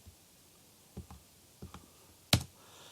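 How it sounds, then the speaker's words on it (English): A computer keyboard is typed on while a command is entered on a CentOS machine, producing a few sparse, quiet keystroke clicks, then one sharper, louder tap, over a faint room hiss. "for doing the Jenkins start, we have to type this command"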